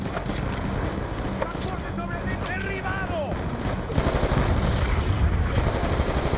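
Rapid bursts of AK rifle fire from the Black Ops 2 campaign mission Time and Fate, mixed with mortar blasts and battle noise, dense and continuous, growing louder in the second half.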